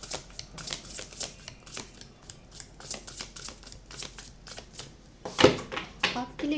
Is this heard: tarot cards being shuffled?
yes